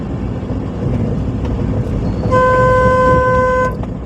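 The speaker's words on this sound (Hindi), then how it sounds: "देखिए, हॉर्न बजाइए" A car horn sounds one sustained, loud honk for over a second amid the low rumble of a car driven through city traffic.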